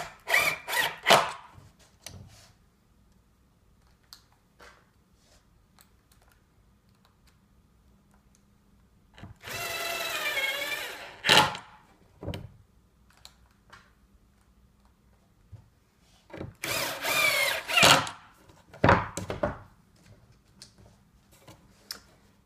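A power driver sinks screws through the plastic mounting clips of a monitor in two whirring bursts, each lasting a second or two, separated by quiet stretches with scattered clicks and taps of handling.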